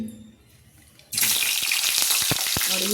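Hot oil in a pan for a roti meal bursts into loud close sizzling after a second of quiet, with sharp pops and crackles running on steadily.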